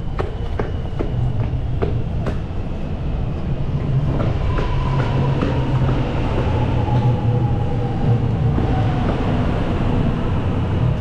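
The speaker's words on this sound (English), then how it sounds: "I can actually hear my train arriving." An X'Trapolis suburban train bound for Mernda pulls into Clifton Hill group platform 1 at a Melbourne station: a loud, steady rumble with rapid wheel clicks over rail joints and a long brake squeal, with no talking.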